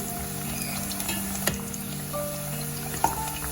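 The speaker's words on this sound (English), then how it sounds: "Just let them fry on one side for at least 1 minute before you turn them" Onion pakora fritters fry in oil over a medium-low flame, making a steady, close sizzle with a couple of sharp clinks from a utensil.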